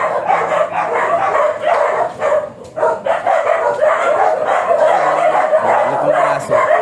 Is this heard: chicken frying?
no